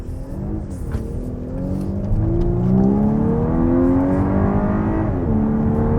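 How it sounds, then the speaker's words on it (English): Exhaust note of a 2024 VW Atlas Cross Sport in sport mode, a steady engine drone rising in pitch as it accelerates, holding loud and close with a brief dip and climb near the end. "Now, you can probably hear that exhaust"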